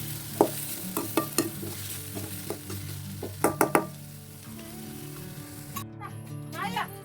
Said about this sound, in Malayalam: അതിനുശേഷം ഒന്ന് ഇളക്കി കൊടുക്കുകയാണ്.